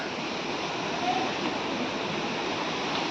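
Chatikana waterfall near the Chatikana Siva Temple pours as a steady broadband rush of falling water, constant and fairly loud, with a faint voice briefly in the background.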